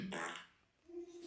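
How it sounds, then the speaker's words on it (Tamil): One brief, fairly quiet fart comes from a man sitting indoors, a short raspy burst followed by a low, faint tone and soft background noise. "உன் புருஷன் குசு விட்டுட்டே இருக்கான்."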